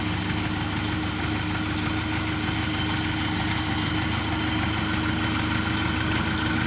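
A new Orion 404 tractor engine idles steadily just after starting, an even, continuous mechanical drone with a low knocking beat, close and alone with no talk.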